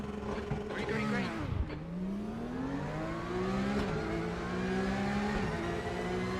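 A Porsche Cup race car launches from pole position. Its engine revs hard and loud from close by, climbing through several gear changes in a series of rising pitch sweeps.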